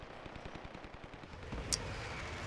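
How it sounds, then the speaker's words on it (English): Rapid, evenly spaced automatic gunfire from the online shooter Dirty Bomb, a sustained burst of closely spaced shots that carries on at steady loudness with a brief sharp crack partway through and no talk over it. "Where am I getting shot from?"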